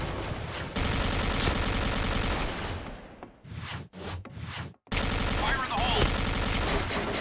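Video game gunfire in a Thai mobile shooter match, with dense rapid bursts of automatic shots, a short lull with scattered blasts, then heavy firing again, loud and close.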